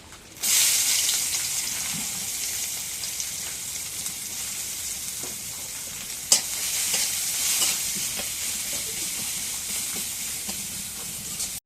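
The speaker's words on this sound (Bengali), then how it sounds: "এখন পেঁয়াজ কাটা দিয়ে দিই" Chopped onions fry and sizzle steadily in a pan over a clay stove, a loud continuous hiss with occasional stirring scrapes and one sharp clack near the middle.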